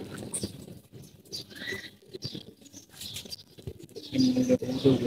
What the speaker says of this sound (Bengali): এভাবে করে আপনার কবুতরগুলো উড়াইতেছি।